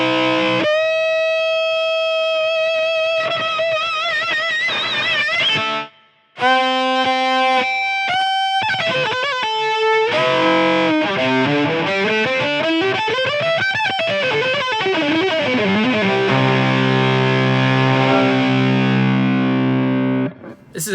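Electric violin through a Line 6 Helix rock preset with heavy distortion and reverb, playing sustained bowed notes and fast sliding runs, loud and continuous with a brief break near the start.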